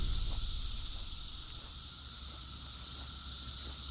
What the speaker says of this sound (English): That's the sound of untold millions of cicadas.